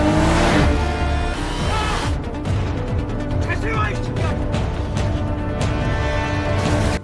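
A car chase in a gangster film involving police and a psychopath: engines roar and rev loudly with bursts of acceleration and brief tire noise, over a continuous dramatic background.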